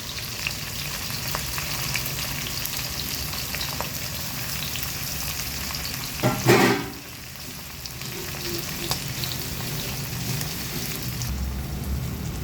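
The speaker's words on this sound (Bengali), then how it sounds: "পেঁয়াজ কাঁচা লঙ্কাগুলো ফ্রাই হয়ে গেছে" Chopped onion and green chilli fry in a pan with a dense, continuous sizzle like steady rain. A louder burst of crackling comes midway as the pan is stirred, then the frying settles back to a steady hiss.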